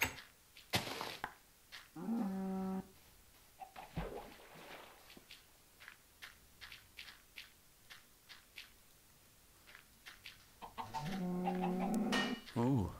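Chickens clucking in Minecraft, two short bursts of clucks, one early and a longer one near the end, fairly close, separated by clicks and soft game noises with no talk over them.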